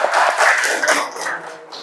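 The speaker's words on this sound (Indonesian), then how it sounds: "tepuk tangan untuk kelompok 2" A class claps for a student group in a classroom, a short burst of dense, close applause that fades slightly toward the end.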